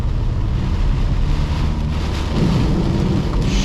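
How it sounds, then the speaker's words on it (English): Heavy rain roars steadily with deep rumbling thunder and wind buffeting the microphone, loud and close throughout, during a thunderstorm on a flooded road. "Storm is getting stronger."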